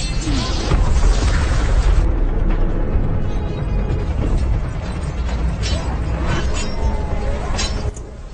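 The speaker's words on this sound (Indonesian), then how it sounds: "Mehmet tak peduli bahaya meriam yang dihujamkan oleh Janisari ke arah Walesia" Ottoman Janissaries fire cannons toward Wallachia in a battle scene, heavy booms and rumbling blasts layered with clattering mechanical noise and dramatic film sound, dense and loud throughout.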